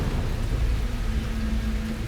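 Steady rain falls with a low continuous rumble of thunder beneath it, an even, unbroken storm wash without distinct drops or sharp cracks.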